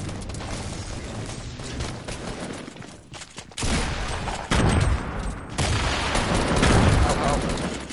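Grenade blasts and gunfire in a video game, heard as loud, noisy bursts and rattling fire that come in waves and grow stronger toward the end.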